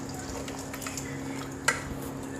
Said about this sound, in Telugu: మొత్తం వేసేసి కలుపుకోవాలి.